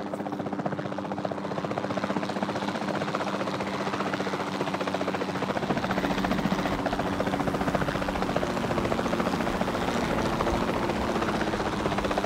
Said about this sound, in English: the sensible thing is to take a capture team helicopter. You can trank it from the air.